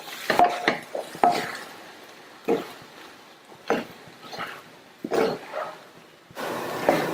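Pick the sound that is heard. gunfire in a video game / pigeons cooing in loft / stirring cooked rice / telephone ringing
stirring cooked rice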